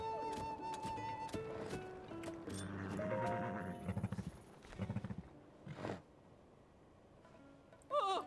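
Golden horse's hooves clip-clopping in Zelda: Tears of the Kingdom, a few quiet bursts of hoofbeats amid game music and effects, with no talk.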